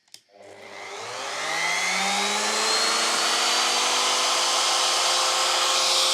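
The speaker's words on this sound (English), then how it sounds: "I'm going to flip on the router." An electric router powered by a Pecron E1500 Pro power station switches on with a click and spins up over about a second into a loud, steady high-pitched whine that holds unchanged to the end.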